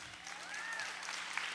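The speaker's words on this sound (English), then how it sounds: "it's okay to clap about that" Audience applause at a live show, a steady faint wash of clapping from a crowd heard at a distance, with no speech over it.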